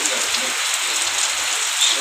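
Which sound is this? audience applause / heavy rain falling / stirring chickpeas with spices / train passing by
heavy rain falling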